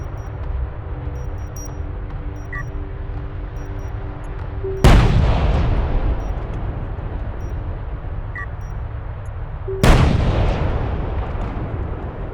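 Two heavy booms from railgun and artillery fire in Homeworld: Deserts of Kharak, spaced about five seconds apart, each a loud sharp blast with a long rumbling decay over a low hum.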